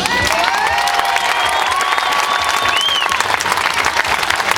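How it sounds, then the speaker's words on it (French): Audience at a rodeo show finale parade applauding and cheering loudly, dense sustained clapping with whistles and shouts from a large crowd, with a voice over a loudspeaker rising above the noise. "C'est eux qu'il faut applaudir."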